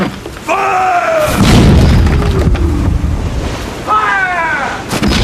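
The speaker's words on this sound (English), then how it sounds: "Fire! Stand by your guns." Naval cannon fire aboard a sailing warship in a period drama, heavy booming blasts with rumbling low end amid wind and sea noise, while shouted voices sound over the action.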